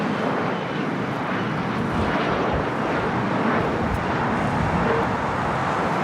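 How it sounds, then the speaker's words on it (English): An Embraer ERJ 135 LR jet taking off at LAX produces a broad, loud, steady engine roar that holds level throughout, with no speech. "Next takeoff is JSX, flight 323, heading to Vegas in an ERJ 135 LR."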